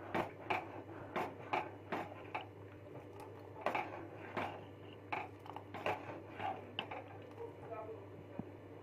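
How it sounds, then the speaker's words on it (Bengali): Sugar is stirred into milk for makhana kheer in a pan, with soft, irregular clicks and light scrapes of a spoon against the metal at close range, quiet and alone. "এবার চিনিটা খুব ভালোভাবে দুধের সঙ্গে নেড়ে চেড়ে মিশিয়ে নেব"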